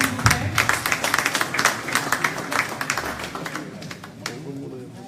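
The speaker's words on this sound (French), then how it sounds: "Toujours tous vos applaudissements s'il vous plaît." Audience applauding at a diploma ceremony as an honoree is called forward: dense, steady clapping from a crowd with voices mixed in, holding fairly even for the whole stretch.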